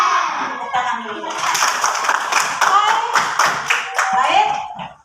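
Students clap together in a classroom at their teacher's call, a burst of rhythmic, fairly loud hand claps in quick succession with sharp individual slaps, fading out at the end.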